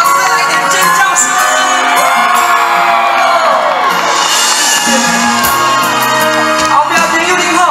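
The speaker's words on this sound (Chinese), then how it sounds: "全场再来一点尖叫声！" A large crowd at an evening temple festival concert in Taoyuan screams and cheers loudly and continuously, with high-pitched shouts and whoops layered over one another.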